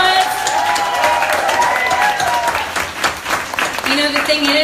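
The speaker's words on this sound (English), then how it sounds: "So big round of applause." An audience claps at a swimwear pop-up party. Steady, loud applause blends with crowd voices and a few cheers.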